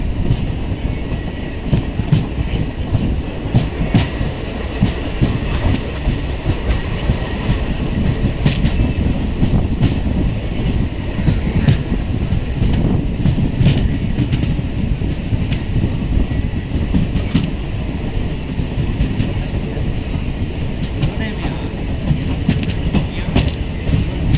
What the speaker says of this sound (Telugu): మనం డోన్ జంక్షన్ రైల్వే స్టేషన్కి అయితే ఎంటర్ అవుతున్నాము